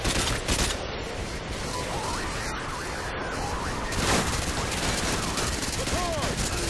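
Gunfire in the video game Modern Warfare 2: dense, sustained bursts of automatic fire with crackling reports, loud and continuous, with a heavier blast near the end of the stretch.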